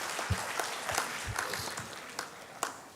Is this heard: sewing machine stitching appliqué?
no